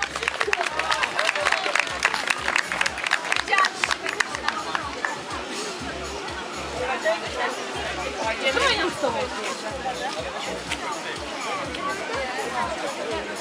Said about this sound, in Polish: Wielkie brawa dla pań.